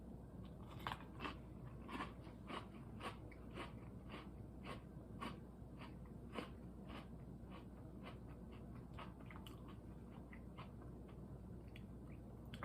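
Peeps cereal pieces soaked in milk being crunched, a series of quiet, close, crisp chewing crunches repeating every fraction of a second, faint against a low background hum.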